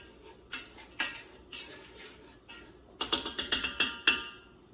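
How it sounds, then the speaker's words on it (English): Sausage being sauteed in a pan, a spoon scraping and knocking against the metal in a quick run of sharp clatters between quieter pauses, with only a faint sizzle beneath. "So I'm gonna saute my sausage."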